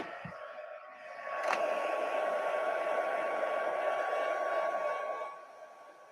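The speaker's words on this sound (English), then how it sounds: "So I'm going to pull out my heat tool and we're going to dry this up real quick." A heat tool drying stamped ink gives a steady whooshing blower hiss that switches on after a second, holds at an even level for several seconds close by, then cuts off and winds down.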